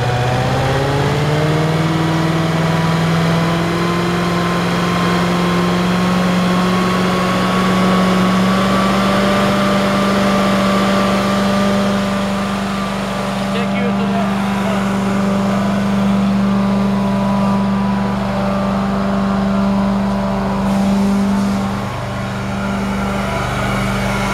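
An Amtex Inferno 2545 engine, a unit fitted with a top filtration box, runs steadily as its RPM is raised toward about 2,900 to 3,000, giving a loud continuous drone whose pitch climbs gradually and then holds.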